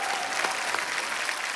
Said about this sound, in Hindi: उसके लिए भी तालियां